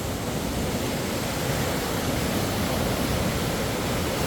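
The flooded Surry River in New Hampshire rushes past, a dense, steady roar of churning water filling the whole sound without pause.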